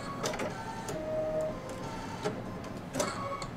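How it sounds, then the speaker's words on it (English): A sewing machine's automatic needle threader on a machine fitted with an Oregon needle gives a few short mechanical clicks and a brief whirring motor tone, close and fairly quiet. "this has an automatic needle threader, so I'm just gonna press this button"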